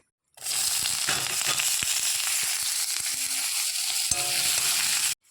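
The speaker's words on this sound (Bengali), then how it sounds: "কড়াইতে তেল দিয়েছি, এরপরে পেঁয়াজ কুচি দিয়ে দেবো।" Chopped onions hit hot oil in a wok and burst into a loud, sustained sizzle that starts abruptly and runs steadily, punctuated by spatula taps and clinks, then cuts off, no speech.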